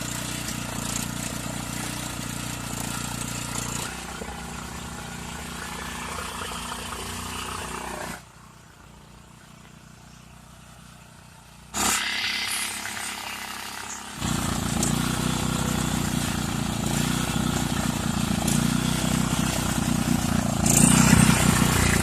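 A Generac 4000XL portable generator engine runs with a steady, loud mechanical drone. It drops much quieter for a few seconds midway, then returns to full roar and holds there.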